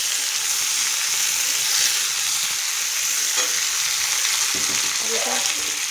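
Potatoes sizzling in hot oil as they are gently stirred in a pan for a small-fish chorchori; a dense, continuous frying hiss stays close and loud, with a few soft scrapes of the spatula near the end.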